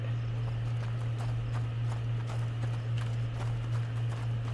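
Horse hooves clop steadily at a walking pace over a constant low hum, with no voices, in the video game A Plague Tale.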